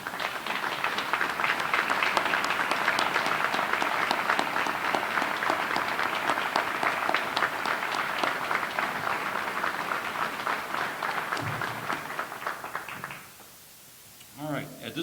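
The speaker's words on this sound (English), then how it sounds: "let's all give them a round of applause for everything they did for this community" An audience at a fire department retirement ceremony gives retired firefighters a long round of dense applause that fades near the end, followed by brief quiet and a few scattered sounds.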